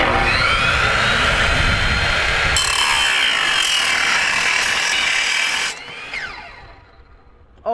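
A power saw whines loudly and steadily as it cuts through a scooter deck clamped in place, the tone shifting midway before the blade winds down near the end.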